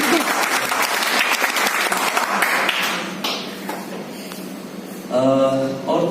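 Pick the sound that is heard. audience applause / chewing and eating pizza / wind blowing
audience applause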